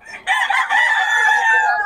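A rooster crows loudly and close by at a chicken market in Bocaue, one sustained cock-a-doodle-doo call filling the short moment.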